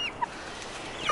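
A large backyard chicken with an impacted crop clucks close by in short, high-pitched calls at the start and end of a brief outdoor moment, with no talk.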